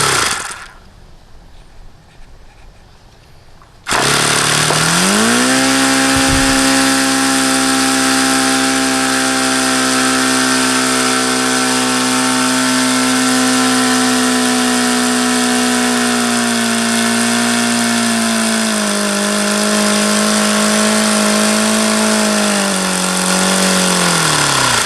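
A starter spins a model engine fitted with an Enya glow plug, and after a few quiet seconds it bursts into a loud, steady droning whine. The drone holds an even pitch for about twenty seconds and dips slightly near the end.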